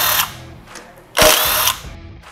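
A power tool whirs in short bursts while loosening the bolts of a motorcycle brake caliper, a loud close buzzing with a brief quieter pulse between two longer runs.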